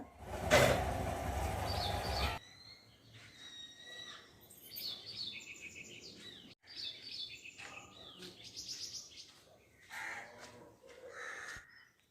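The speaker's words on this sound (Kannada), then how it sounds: "ಬೆಳಿಗ್ಗೆ ಎದ್ದರೆ ಇನ್ನೊಂದು ಖುಷಿ ಏನಂದರೆ ಹಕ್ಕಿ ಪಕ್ಷಿಗಳೆಲ್ಲ ಕೂಗೋದನ್ನು ಕೇಳ್ಬೋದು" A burst of broadband noise opens, then birds chirp and call throughout at dawn around 6 a.m., with crow-like caws and varied tweets at moderate distance.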